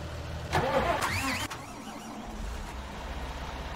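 A tractor engine in Farming Simulator 19 cranks and catches, then settles into a steady low idle, close and moderately loud.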